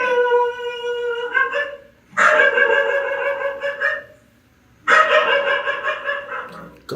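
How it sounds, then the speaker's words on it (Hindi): Dogs bark in a closed room: loud, close, harmonic bursts of barking and howling, with a short quiet break before a second long burst. "कमरे में क्यों भौंक रहा है ये आप?"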